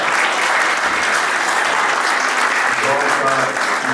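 Applause from an audience at a church seminar, dense steady clapping filling the room throughout, loud and continuous with crowd noise.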